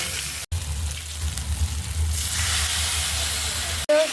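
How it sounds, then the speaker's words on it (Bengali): Spice paste fries in a pan with a steady, close hiss and sizzle, briefly cut twice, carrying on at an even level throughout. "মশলাটা আমি কষিয়ে নেব"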